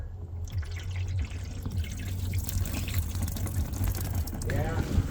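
Water leaking from a Toyota AE86 drips into a bucket below in faint, irregular drops amid background noise, with people talking nearby.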